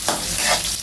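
Chopped onion sautéing in a pan for adobong liempo, giving a brief, steady frying sizzle with a light stir, close and fairly loud with no talk.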